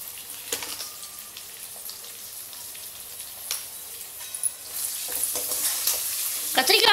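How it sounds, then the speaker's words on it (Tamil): Brinjal pieces sizzle in a pan while being stirred with salt for a Tamil vathakuzhambu, giving a steady close frying hiss broken by scraping stirs and clatters that grow busier toward the end. "கத்திரிக்காய் பாதி வதங்கிட்டு இருக்கச்சே"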